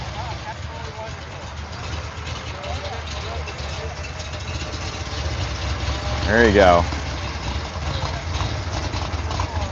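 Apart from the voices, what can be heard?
Corvette Stingray engine idling and pulling away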